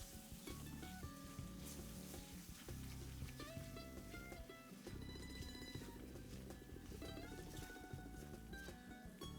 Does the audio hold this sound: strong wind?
no